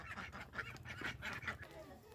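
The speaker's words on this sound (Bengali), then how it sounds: "এই হাঁসের দল, এরা ডিম পাড়ে।" A flock of egg-laying ducks in a village garden homestead, quacking and honking repeatedly in overlapping calls at close range, a steady noisy chorus throughout.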